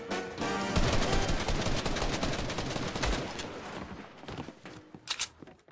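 Gunfire in Fortnite, a dense burst of rapid automatic shots and rattling fire that thins into scattered single shots and footsteps.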